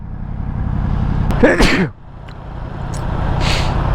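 A single sharp sneeze bursts out while riding a Yamaha R1 motorcycle, over steady road and engine rumble, loud and close, followed by the continuing drone of the moving bike.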